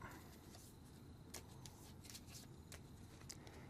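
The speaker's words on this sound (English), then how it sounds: "Shuffle that up." A deck of cards shuffled during a solo tabletop card game, soft riffling and sliding sounds with a few sharper snaps, quiet and close, with no talking.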